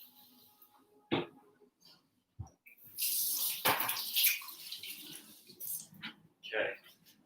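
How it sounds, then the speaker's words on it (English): Hands are washed under a running kitchen tap, water splashing and gushing in uneven bursts up close, broken by a few brief knocks, with faint voice-like sounds in the background. "I'm going to wash my hands first because of obvious reasons."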